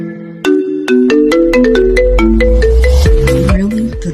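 A Demon Slayer theme song ringtone plays loud and alone, a bright melodic phone tune starting after a short pause and continuing with steady rhythmic notes.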